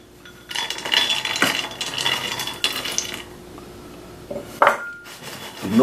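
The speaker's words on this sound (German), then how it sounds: "Die Nussmischung schön verteilen," Nut mix being spread across a dry, unoiled coated frying pan on a stovetop, with close, bright clinking and rattling of nuts and a utensil against the pan in irregular bursts.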